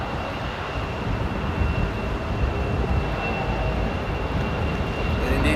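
An airplane roars at Amsterdam Airport, a loud, steady broadband engine rumble that carries on alone without talk.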